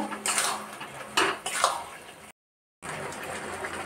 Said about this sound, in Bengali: গুড় ভালো মতো ফুটে ওঠা পর্যন্ত আমি গ্যাসের ফ্লেমটাকে হাই করে দিয়ে নাড়তে থাকবো